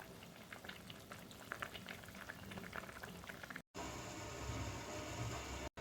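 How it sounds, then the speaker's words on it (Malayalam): Karimeen pearl spot fish curry boiling in a pot, a dense steady bubbling close by, broken by two brief dropouts, with no voices. "കറി നന്നായിട്ട് തിളച്ച് വരുന്നുണ്ട്."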